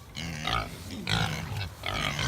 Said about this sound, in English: I don't know if you guys can hear the pigs, but you should be able to because they're really loud.